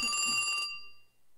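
A cordless telephone handset gives a short, bright electronic ring that cuts off and fades into near silence, heard alone and fairly faint.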